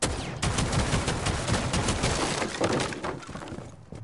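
Rapid gunfire sounds in a Rainbow Six Siege match as a player shoots into the floor below, with loud, dense bursts of cracking shots and breaking debris that fade out near the end.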